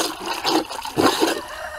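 Laundry sloshes and churns in a tub of rain water for off-grid hand washing, giving short close surges of swishing liquid with no talking.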